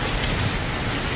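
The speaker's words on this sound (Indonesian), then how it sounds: "Tiba-tiba hujan gede banget." Heavy rain suddenly pours down beside a river estuary, a dense, steady hiss of drops filling the short moment with no voices.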